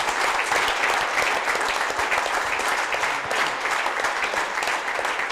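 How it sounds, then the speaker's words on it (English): A crowd applauds the Ladies Open champion at the softball handball nationals finals, with loud, dense, sustained clapping that continues evenly for several seconds. "everyone here, I'm sure, will give a big round of applause to the Ladies Open champion, Martina McMahon."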